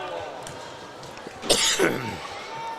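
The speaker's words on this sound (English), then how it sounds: "that pesky cough is wanting to stick around a little bit" A single cough breaks through close by, with people talking around it, during a girls' high school basketball regional tournament game.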